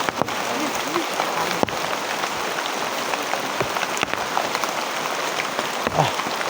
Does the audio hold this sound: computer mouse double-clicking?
no